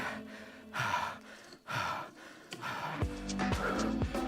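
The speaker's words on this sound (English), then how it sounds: "Heavy breathing, I know." Heavy, rhythmic breaths and sighing exhales from a rider during an indoor spin cycling endurance workout, several loud close breaths over background music.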